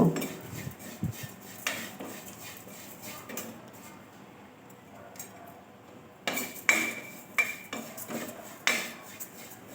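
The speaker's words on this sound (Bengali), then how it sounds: "ততক্ষণ আমি হালকা আঁচে নেড়ে নেড়ে ভেজে নেব" A utensil scrapes and clinks against a pan as oats are stirred and dry-roasted over low heat, giving soft irregular knocks with quiet gaps and no talking.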